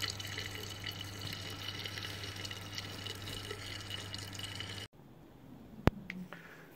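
A steady rushing stream of sparge water runs into a brewing mash for several seconds, then cuts off, leaving quiet drips and a single sharp tap.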